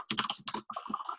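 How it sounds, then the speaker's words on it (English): Someone types an email address on a computer keyboard, producing a quick, dense run of close keystrokes with brief pauses between bursts. "you'll need to type their address"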